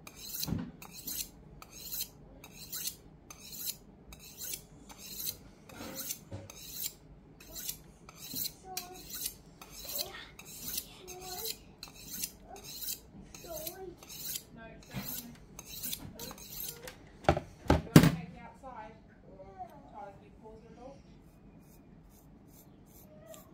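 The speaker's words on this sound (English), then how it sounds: "I quite often use the steel, listen for any shoulder or any shoulders or folds I've put in it." A kitchen knife is drawn along a sharpening steel in a steady rhythm of quick metallic rasping strokes, about one per second, close and fairly quiet, ending in a couple of louder scrapes before falling silent.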